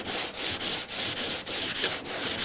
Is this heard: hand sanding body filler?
yes